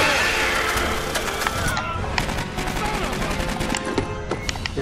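Rapid turret gunfire rattles continuously in the sci-fi shooter Aliens: Colonial Marines, dense bursts of shots layered with explosions and combat noise, loud and close.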